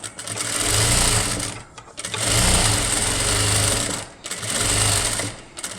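A sewing machine runs a double stitch in three loud, close bursts of rapid mechanical chatter, with short pauses between runs.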